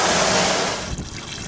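Water trickling and splashing through poly bulk grease filters held in a rack during a wash, a close, steady rushing stream that thins out toward the end.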